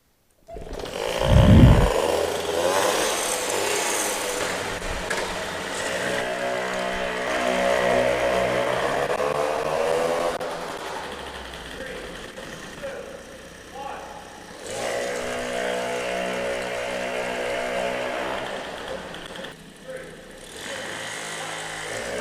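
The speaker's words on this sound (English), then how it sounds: "So I'm going to start this, do a couple laps again to get the bike warmed up" A Motobecane moped with a stock variator starts with a sharp burst, then runs laps, its engine buzzing and rising and falling in pitch as it speeds up and slows, fairly near and moderately loud.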